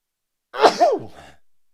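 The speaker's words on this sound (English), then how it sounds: "I'm going to sneeze." A single sharp sneeze up close, a quick catch of breath bursting into the sneeze, then a short trailing exhale, with silence around it.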